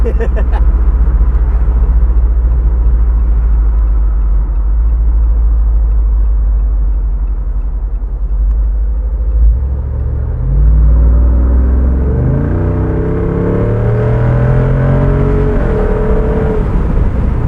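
Deep, raw exhaust rumble from a 2024 Jeep Wrangler 392 with its Hemi V8, loud and steady while driving, swelling into a revving acceleration near the end as people talk over it.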